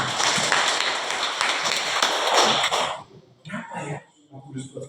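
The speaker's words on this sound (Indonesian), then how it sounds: "Tepuk tangan" Classroom pupils clap together in a loud, dense burst for about three seconds, then it stops and scattered taps and voices follow.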